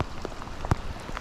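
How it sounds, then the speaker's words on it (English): Rain patters steadily on a riverbank beside a high, blown-out winter river, with a few louder drops striking close by and no talking. "try to block myself a little bit from some of this rain"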